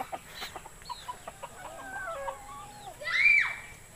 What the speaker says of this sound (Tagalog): Ito po yung mga alagang manok dito